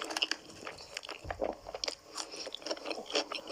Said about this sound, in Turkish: Kulağım çatır çutur yemek yeme sesleri oldu ya.